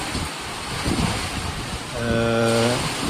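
Wind gusts roar through a banana plantation, a broad rushing noise with microphone buffeting that swells and eases, joined near the end by a faint sustained tonal hum.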